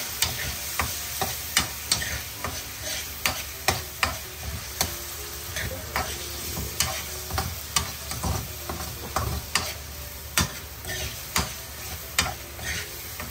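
Onions and tomatoes sauté in a pan for pork giniling, with a steady sizzle under regular, sharp clacks of a utensil stirring against the pan.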